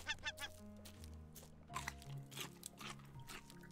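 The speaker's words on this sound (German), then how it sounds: "War das gerade eine Möwe?" Seagulls cry in the survival game Raft, with a few honking, squawking calls mixed among game sounds and music, fairly faint overall.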